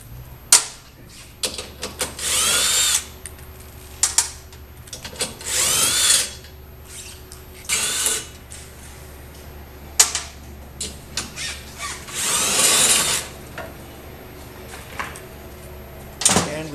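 Power tool, likely an impact driver, removing the rear subframe bolts on a motorcycle bagger during a drop seat kit install; several short bursts of whirring and rattling, separated by clicks and handling noise, close and fairly loud.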